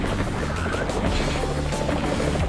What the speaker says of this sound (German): Na, schon wieder Hubschrauber.